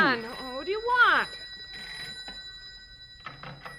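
Old-style telephone bell ringing as a radio-drama sound effect in a boys' adventure story, sounding close and clear at the start, followed by a voice and other people talking in the room.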